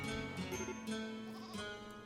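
A sheep bleats in a video game, a close, wavering cry with a couple of shorter bleats, loud and alone.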